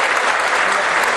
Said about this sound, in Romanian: Vă rog să aplaudați